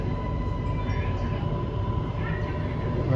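Bangkok underground metro train rumbling steadily with a constant low roar and a faint high tone, a continuous noisy ride heard from inside, with some muffled background voices.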